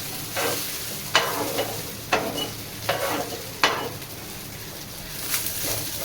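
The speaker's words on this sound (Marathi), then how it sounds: "तर हे बघा मिरच्या चांगल्या भाजल्याचा." Green chilies roast in a pan for tomato chutney, a low sizzle broken by a regular series of sharp scraping strokes as a spatula stirs them, five or six distinct scrapes, close and without talk.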